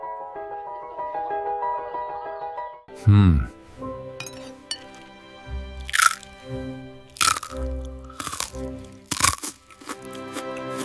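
Crunchy pani puri street food being bitten and chewed, with a short musical passage first and then several loud, crisp crunching bursts spaced a second or so apart, close up.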